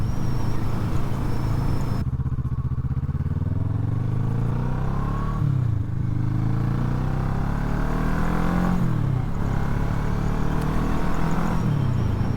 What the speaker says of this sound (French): Le bruit du moteur est très sympa aussi.